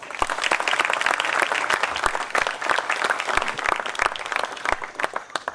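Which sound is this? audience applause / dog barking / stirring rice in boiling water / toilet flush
audience applause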